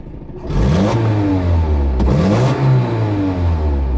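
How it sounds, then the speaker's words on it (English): A Toyota engine with a minor exhaust leak revving up, a loud, close mechanical drone that rises and falls in pitch with a slight raspy edge, heard alone. "It's running freaking good, minus a little minor exhaust leak"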